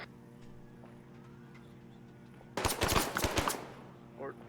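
A loud burst of automatic gunfire in the Arma military video game, rapid close shots for about a second and a half, breaking over quiet background game ambience.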